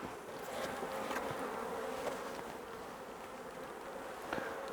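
A honeybee colony in an opened hive buzzes steadily, with a dense, continuous hum and a few individual bees passing close by.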